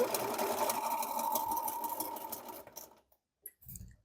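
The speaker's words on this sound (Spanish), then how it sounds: "Vamos a empezar aquí rematando un poquito y vamos a ir cosiendo" A sewing machine stitches fabric for a zero-waste bread bag, a steady mechanical whir running for about three seconds before it stops. A couple of faint clicks follow in the quiet.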